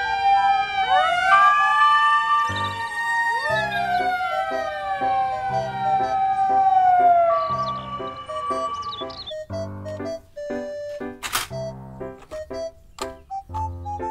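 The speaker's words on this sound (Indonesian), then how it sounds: "Mobil damkar." A fire truck siren in a children's vehicle toy or cartoon setting, wailing and sweeping loudly up and down for several seconds before changing to choppier electronic tones.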